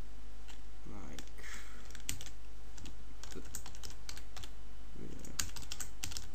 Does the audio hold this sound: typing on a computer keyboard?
yes